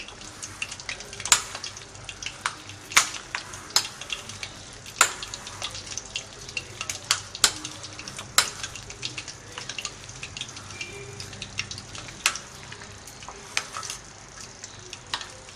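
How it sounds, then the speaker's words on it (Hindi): Spinach, potato and green onion are stirred into pakora batter in a bowl, giving soft wet squelching with sharp scattered clicks of utensil against bowl throughout, close and fairly quiet, with no speech. "अब सबको हमें अच्छे से मिक्स कर लेना है।"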